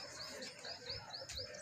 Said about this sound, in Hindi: ये हमारे कल्लों के कबूतर हैं, बहुत पुराने।